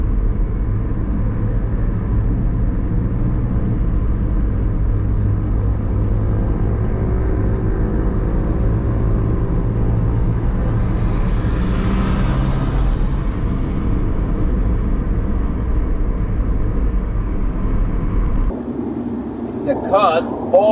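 A car cruises in a motorway lane with a constant low road rumble and engine hum filling the cabin, while someone talks throughout; the steady drone cuts off near the end.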